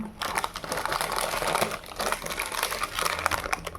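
Gift wrapping paper crinkles and rustles steadily and close up as birthday presents for a child are packed, a continuous busy crackling with no voices.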